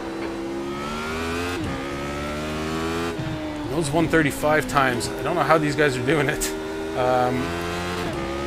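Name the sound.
Radical race car engine in video game iRacing at Silverstone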